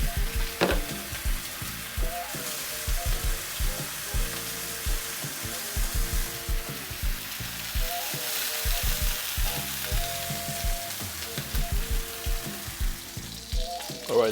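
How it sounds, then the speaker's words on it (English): Bratwurst frying in a pan, a steady close sizzle and crackle with occasional stirring clatter running throughout, no talking. "So now we're going to fry our bratwurst, probably for about 5 to 6 minutes."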